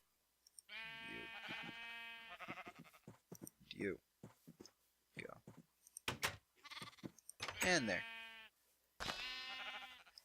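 Repeated sheep bleats, harmonic and nasal, mixed with a voice talking and occasional clicks, the bleats loud and close.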